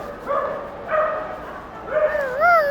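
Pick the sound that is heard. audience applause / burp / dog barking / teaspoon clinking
dog barking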